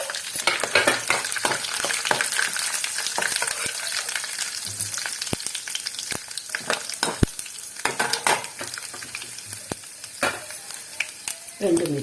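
Urad dal, cumin and mustard seeds fry in hot oil for a Telugu moong dal coconut curry tempering, giving a steady close sizzle with repeated stirring scrapes and clicks throughout.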